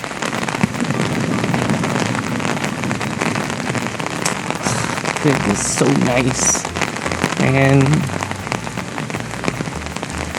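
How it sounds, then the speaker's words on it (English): Heavy rain pours at a cherry blossom site in Japan, a dense constant patter of drops hitting surfaces close by, with a person talking briefly over the downpour. "the rain is pouring"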